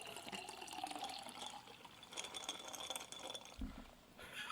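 A margarita being poured into a glass: a soft continuous trickle of liquid with faint clinks against the glass, fairly quiet amid background room noise.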